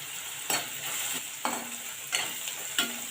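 Chopped onion with curry leaves and hing fries in a pan, a continuous sizzle broken by four distinct scraping stirs of a spatula at regular intervals, close and clear with no talking.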